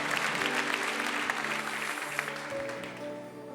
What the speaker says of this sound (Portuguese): Aplauda forte ao Senhor Jesus, que Ele é bom.